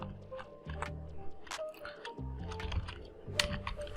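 Keystrokes on a computer keyboard typing out a git commit command, quick uneven bursts of clicks close by with no one talking.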